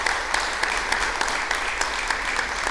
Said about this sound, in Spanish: Yo le pido un aplauso para el doctor Bustamante